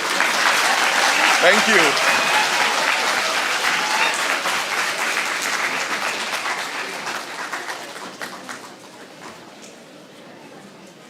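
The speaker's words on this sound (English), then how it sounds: "Now you can clap." A lecture-hall audience at a university memorial lecture bursts into sustained applause, dense clapping that starts loud and slowly thins and fades over about ten seconds, with a voice briefly speaking over it.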